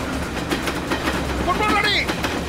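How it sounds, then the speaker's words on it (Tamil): A cartoon train rumbles and rattles closer, with clattering wheels and a brief rising whistle-like squeal over a busy background. "ட்ரெயின் வருது."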